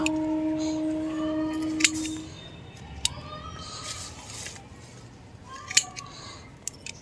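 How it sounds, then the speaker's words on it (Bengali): Scissors snipping hard hibiscus branches into cuttings for planting in sand, a few sharp close clicks spaced several seconds apart, with someone talking in between. "ব্যাস এইভাবে করে আমি প্রত্যেকটা কেটে নেব।"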